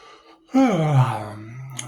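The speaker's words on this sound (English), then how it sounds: "Yawn." A single drawn-out yawn, rising then sliding down into a long low groan, close and fairly quiet.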